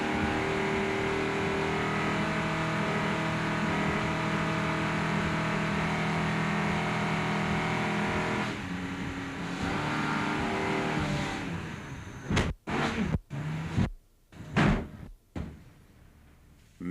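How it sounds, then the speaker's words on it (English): Racing powerboat Patriot during a collision and spin, heard as a loud, steady engine roar that suddenly drops and becomes ragged, then breaks into sharp bangs and abrupt cutouts. "Major collision as Patriot spins around"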